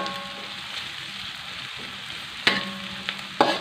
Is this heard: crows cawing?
no